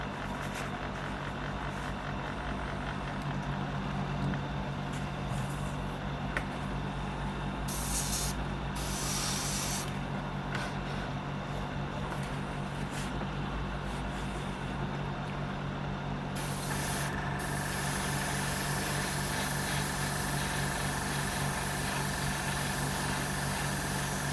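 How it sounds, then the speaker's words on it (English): A spray gun sprays blue metallic paint onto a 1/6 scale Wonder Woman figure, hissing steadily and continuously over a low mechanical hum, with brief breaks and changes in the spray's pitch along the way. "we're now going to spray on the blue"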